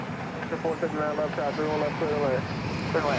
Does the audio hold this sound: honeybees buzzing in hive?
no